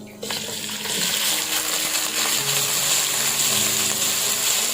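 Two chopped onions hit hot oil in a pan for a green onion fish dish, setting off a sudden loud hiss that swells into a dense, steady sizzle close by, with no talking.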